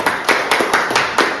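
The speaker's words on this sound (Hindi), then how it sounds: "सर के लिए एक बार ताली।" A small group claps for a film director on set, a brief loose burst of about six or seven distinct hand claps close by.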